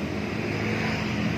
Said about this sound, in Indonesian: tes suaranya, coba hidupin, bro.